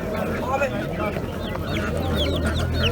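Chickens cluck and chatter at a crowded poultry market, steady fowl calls layered over busy background noise and nearby talk.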